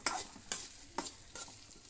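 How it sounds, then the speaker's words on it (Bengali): Mung dal frying in ghee sizzles quietly in a pan while a spoon stirs it in four sharp scrapes, about half a second apart, over a steady hiss. "মুগ ডাল ভাজা হইতেছে ঘির মধ্যে বাজতেছো না?"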